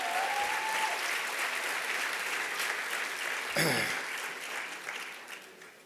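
Applause at a gala fills the room as a dense, steady wash of clapping from a large crowd that continues throughout and tapers slightly at the end.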